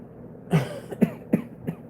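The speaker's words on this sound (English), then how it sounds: "An annoying cough." Four short coughs in a row, fairly close and evenly spaced, each a brief throaty burst with quiet between them.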